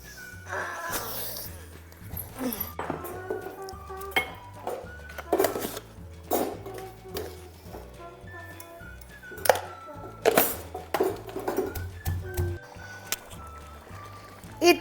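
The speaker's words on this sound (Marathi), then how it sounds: "आता इथे ना मी खलबत्त्यामध्येच वाटून घेणार आहे" Spices pounded in a metal mortar and pestle in a home kitchen, making a run of irregular ringing knocks and clinks, close and fairly loud over steady background music and a faint voice.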